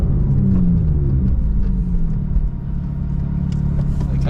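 McLaren 800HP car engine held at low RPM while rolling slowly, a deep steady rumble heard from inside the cabin with a faint falling tone early on.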